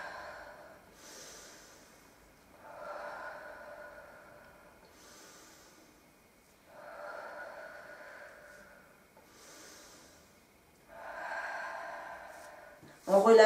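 Slow, deep Pilates breathing: four long, airy inhales and exhales in a steady rhythm, close and soft, each breath swelling and fading alone.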